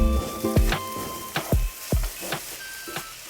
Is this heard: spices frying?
yes